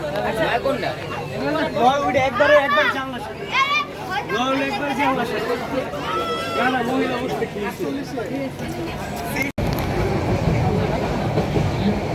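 A local train pulls into a station on the route toward Cox's Bazar, its steady rumble and rattle running loud and continuous beneath a crowd's chatter and nearby voices.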